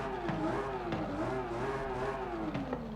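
A Nissan Fairlady Z 300ZX with a Skyline engine and race exhaust revs and whines in Forza Horizon 5, pitch rising and falling in smooth waves, steady and moderately distant with a synthetic, game-like tone.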